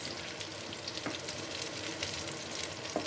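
Meatballs fry in hot oil with a steady, close crackling sizzle while a utensil stirs them, giving a few soft scraping knocks against the pan; no voices.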